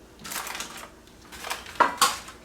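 A metal baking pan for a strawberry oatmeal bar is picked up and handled, giving a few clattering scrapes and two sharp knocks close by, with no talk.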